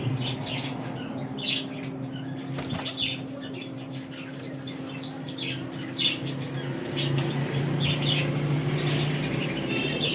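Pigeons in a loft or enclosure, with soft cooing, occasional chirps and a sharp wing flap or two over a steady low murmur of birds close by.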